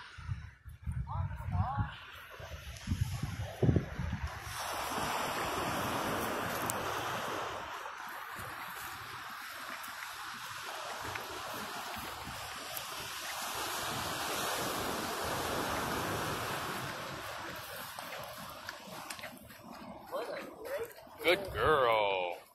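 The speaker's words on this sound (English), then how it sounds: "look at the ocean" Ocean surf washing onto a beach, a broad steady roar of waves with wind buffeting the microphone, heard on a walk with a leashed Siamese cat while a person talks at the start and end.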